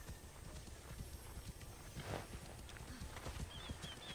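Summoned horse in the video game Immortals Fenyx Rising, its hooves clip-clopping in a steady fast rhythm under a continuous game background, with a faint whinny.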